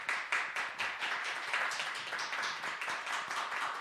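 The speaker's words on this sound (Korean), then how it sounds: "자, 여러분 큰 박수로 축복해 주시기 바랍니다." A church congregation claps in blessing during a Sunday morning service, as a child receives a graduation certificate; the clapping is brisk and fairly close, pulsing slightly in waves with no talk over it.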